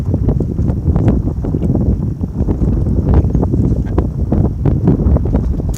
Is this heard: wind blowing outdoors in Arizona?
yes